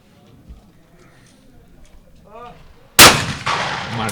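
A single loud shotgun blast at an Olympic trap shooting final, sharp and close with a short echoing tail, following quiet background and a brief whirring launch sound.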